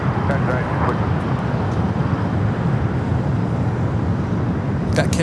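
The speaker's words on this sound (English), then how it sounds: "Just had that China Airlines cargo 777 touching down here on the south side." A China Airlines cargo Boeing 777 touching down on the south side at LAX gives a steady, broad roar of jet noise that fills the whole stretch, with a few faint clicks near the end.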